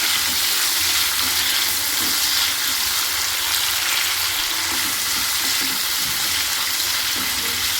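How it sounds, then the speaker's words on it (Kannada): Ingredients for a gravy fry in a non-stick kadai with a spoon, giving a steady, close, continuous sizzle with faint stirring scrapes running unbroken for about eight seconds. "ಈಗ ಇದಕ್ಕೆ ಫ್ರೈ ಮಾಡ್ಕೊಳಕತ್ತೆ ನೋಡಿ"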